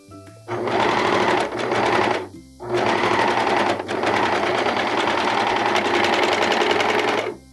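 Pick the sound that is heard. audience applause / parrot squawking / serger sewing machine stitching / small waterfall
serger sewing machine stitching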